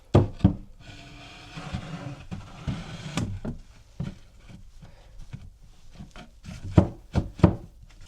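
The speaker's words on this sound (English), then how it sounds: "I'm just gonna slide these in and see if they fit properly" Plywood laundry cabinets slid into place by hand, giving scattered wooden knocks and thumps with rubbing scrapes between them and a few sharper bumps near the end, close and fairly quiet, with no talking.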